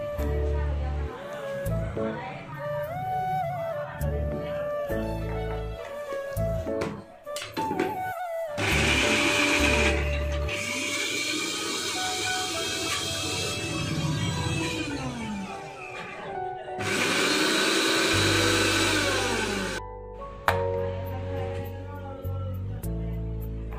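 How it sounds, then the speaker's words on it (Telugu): A mixer grinder blends peeled beetroot in two loud, steady whirring bursts of a few seconds each, with quieter voice or background sound between them. "పీల్ తీసుకున్న బీట్రూట్ని మనం నెక్స్ట్ మిక్సీలో పట్టుకోవాలి."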